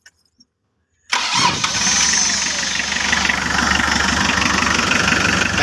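A car engine with an alternator that is not charging cranks after a second of near silence, catches and settles into a steady rough idle that stays loud and close.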